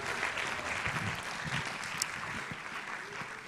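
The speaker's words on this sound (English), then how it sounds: "one thunderous round of applause for all 8 of them" Applause from an audience at a fintech challenge grand finale, a dense continuous patter of clapping heard from within the hall, steady and moderately loud throughout.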